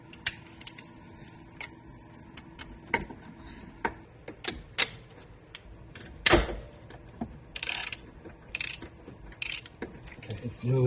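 Socket wrench with a U-joint extension working a 24mm transmission filler plug loose on a Toyota AWD transaxle: scattered ratcheting clicks and metallic knocks, with a louder crack around the middle, close up and irregular.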